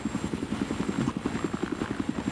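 Helicopter in the video game Battlefield 3 flying close by, a steady loud rotor chop pulsing rapidly and evenly throughout with a constant engine whine above it, no talking.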